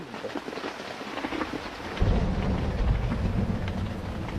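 Heavy rain pours down steadily in a city at night, a dense roar that thickens and grows louder partway through, with low rumbling underneath and no voices.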